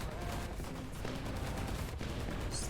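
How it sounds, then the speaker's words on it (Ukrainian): Rapid bursts of gunfire in the video game War Thunder crackle in quick succession, dense and continuous, fairly quiet overall with no talking. "Я наче стріляю"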